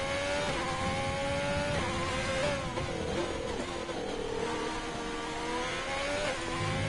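A Formula One car engine in F1 2020 at the France track whines loudly and continuously up close, its pitch rising and falling as it brakes, coasts and accelerates through a corner.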